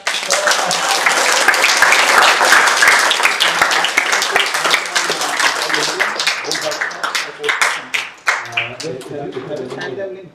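Audience applause at the close of a workshop talk, dense sustained clapping that thins into scattered individual claps toward the end, with some voices mixed in.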